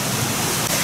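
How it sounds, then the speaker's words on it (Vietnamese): A waterfall on a mountain stream, a dense, steady roar of falling water that is loud and continuous, with no other sound standing out. "mấy ông anh đi tắm suối các bạn. Cái thác ở trên này."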